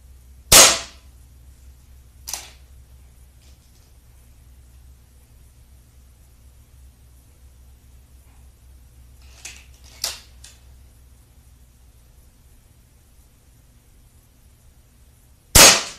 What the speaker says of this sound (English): So I'm going to shoot a couple more lead pellets for you.